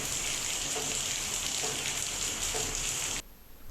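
Steady unseasonal rain during the rice harvest season in the Konkan region, a dense even hiss of falling drops that continues at a constant level before cutting off abruptly near the end.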